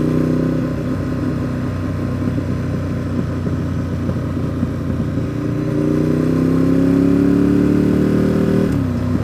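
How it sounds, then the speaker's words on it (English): A skid steer engine runs loud and close on a paving job, a steady low rumble that rises in pitch as it revs up partway through, then cuts back sharply near the end. "There's my skid steer."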